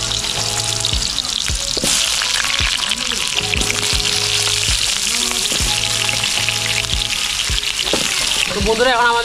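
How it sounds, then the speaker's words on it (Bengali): Potatoes for a meat curry fry in hot oil in a wok, giving a loud, steady sizzle broken by regular scrapes and knocks of a stirring spoon. "এখন আমাদের মাংস আলু ভাজা চলছে"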